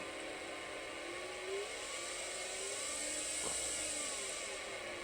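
A Hall N machine spins at slow speed, giving a steady, even whir with a high tonal hum and a slowly shifting drone, fairly quiet and continuous with no talking.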